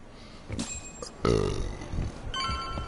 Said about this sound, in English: I've been burping like I drank me some Pepsi